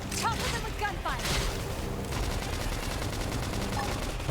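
Sustained automatic gunfire and heavy impacts pound through a fight in the video game Xenoblade Chronicles X, steady and loud for the whole stretch, with short spoken game callouts layered on top.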